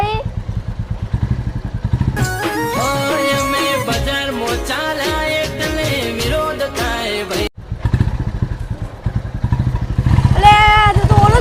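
A motorcycle engine idles with a low, steady rumble underneath louder music and voices, and drops out briefly partway through.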